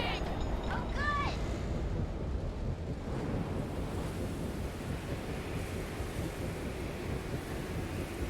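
Steady rushing wind effect in the video game Guardians of the Galaxy, a broad, even whooshing roar held throughout, with a few brief tonal chirps at the start.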